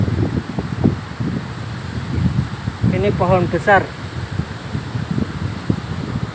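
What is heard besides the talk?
strong wind blowing around fallen tree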